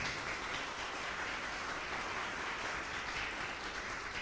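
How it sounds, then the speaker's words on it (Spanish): A church congregation applauds, a faint, even wash of clapping that holds steady without any speech over it. "Denle un aplauso al Señor por esa palabra entonces"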